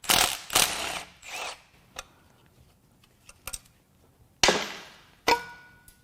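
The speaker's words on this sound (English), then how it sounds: "Okay, now we can remove the pickup tube." Oil pickup tube unbolted from a damaged Dodge Charger 3.6 Pentastar V6 during teardown, with close ratchet clicking bursts, a few sharp metallic ticks and taps, and quiet pauses between.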